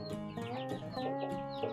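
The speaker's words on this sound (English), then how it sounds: "My big rooster, Mr. T." Rooster clucking in a backyard flock among baby chicks, a short run of close, clear clucks without any talk.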